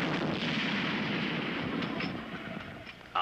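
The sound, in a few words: shrapnel grenades exploding, cartoon artillery fire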